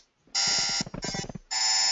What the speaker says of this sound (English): so you've got angry robots and all sorts of things